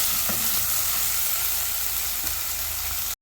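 Crushed shallots sautéing in coconut oil for a Kerala prawn curry, a steady close sizzle and hiss with light stirring taps, continuous for the whole stretch with no talk.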